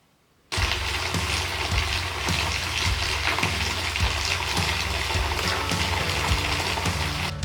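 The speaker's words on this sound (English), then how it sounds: "that is just dripping dirty woolly water right into my bath" Dirty water from scoured sheep fleece pours steadily into a bath, a constant broadband rush with faint dripping and trickling, starting abruptly and continuing without pause.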